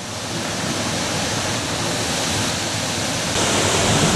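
High Force, a 70-foot waterfall in the North Pennines running at low water, roars as a steady, dense, close rush of falling water that swells slightly louder near the end, with no voices.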